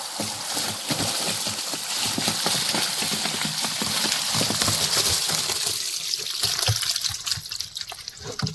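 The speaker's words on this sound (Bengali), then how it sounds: "যে মাছগুলো নিয়ে এসেছিলাম সেটা জল পাল্টে দিচ্ছে" Water is changed for live koi fish (climbing perch) in a container, with steady splashing and trickling pouring throughout, loud and close, fading a little toward the end, with no talking.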